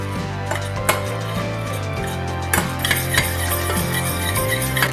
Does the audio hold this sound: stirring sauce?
yes